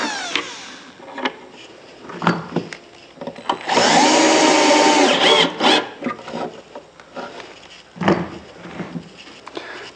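Power drill boring a hole into a wooden DIY cabinet body, a whirring, grinding burst of a couple of seconds amid scattered knocks and handling sounds of wood and tools.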